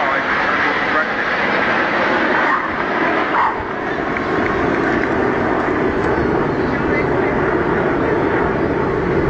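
Red Arrows display jets flying a manoeuvre at a Bournemouth air show give off a continuous, loud distant roar of jet noise. A commentator's voice talks over it the whole time.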